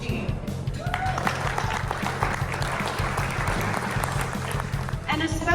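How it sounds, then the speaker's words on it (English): Applause from the audience at a spring fling fundraising event for a charity, with steady clapping that carries through the whole stretch alongside background music and voices. "I want to give you guys a big round of applause for everybody here tonight"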